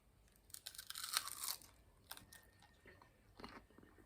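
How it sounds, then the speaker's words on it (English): Close, crisp crunches from bites of a vegan chicken sandwich with vegan mayo, a few sharp bursts of crunchy chewing clustered early and another near the end, with no talking. "listen to the crunch."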